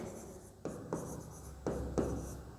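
Chalk or marker strokes on a classroom board during a Hindi-language lesson about the Milky Way galaxy, four distinct scratchy bursts of writing spaced across a quiet room, close and fairly clear with no talk.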